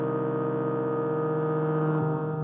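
A synthesizer with added distortion and reverb holds one thick, buzzing sustained tone with a gritty, distorted edge and a reverberant wash, shifting slightly near the end.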